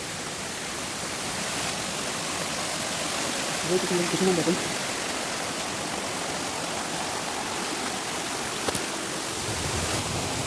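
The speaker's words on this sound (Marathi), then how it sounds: "हेच आहे ते वारसोतीचा धबधबा आपल्या बोटासमोर दिसतंय" The Varjhot waterfall roars in a constant, dense rush of water in the rain. A brief voice is heard partway through.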